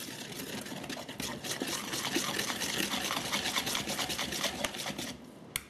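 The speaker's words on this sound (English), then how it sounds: "I'm going to sift those dry ingredients." Dry ingredients for meat pies sifted through a sieve, a continuous close rasping, rubbing shake lasting several seconds, steady and unaccompanied by talk.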